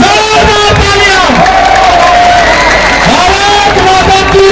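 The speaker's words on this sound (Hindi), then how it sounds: "एवं जोरदार तालियां" A huge crowd at an independent candidate's election rally roars with loud cheering, whoops and shouts, a dense, clamorous wall of noise, with voices calling out over it.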